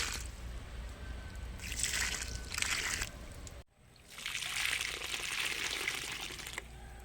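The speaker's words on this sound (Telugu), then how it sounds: "ఇలా మొక్కలు నాటుకున్న తర్వాత వాటరింగ్ చేసుకోవాలి." Water pours onto newly planted seedlings in a terrace garden, coming in two hissing, splashing bursts with a short silent gap between them, close and moderately loud.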